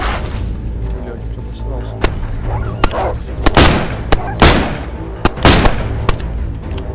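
Gunfire in the survival video game DayZ: several sharp shots ring out irregularly, some close and loud with others more distant, over a steady background rumble.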